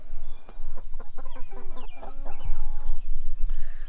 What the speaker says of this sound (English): And our rooster, which I think might be a black leghorn